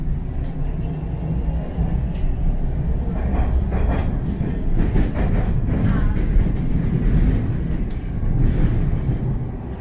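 Toronto subway train rumbling along between stations, a steady loud low roar with rattling and clicking of the cars throughout, no talk.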